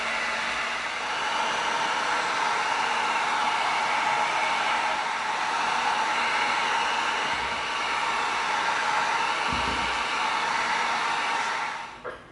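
Heat gun blowing hot air over EVA foam to seal its surface, a steady loud whooshing roar held for about eleven seconds before cutting off.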